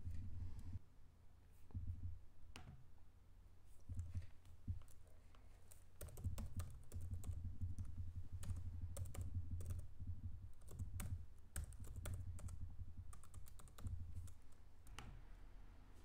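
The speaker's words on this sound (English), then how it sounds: "We typed in our email and password" Keys clack steadily on a computer keyboard as an email address and password are typed into an Android app login, with bursts of quick presses and short pauses over a low, constant hum.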